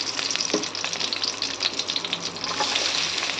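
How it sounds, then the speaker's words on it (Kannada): Onion and green chillies frying together in a pan, a loud, close, continuous sizzle with crackling spits throughout and no speech. "ಒಂದು ಈರುಳ್ಳಿನ ಹಾಕ್ಕೊಂಡೆ ನಾನು ಇದನ್ನು ಚೆನ್ನಾಗಿ ಫ್ರೈ ಮಾಡ್ಕೊಳ್ಳೋ ಫಸ್ಟ್"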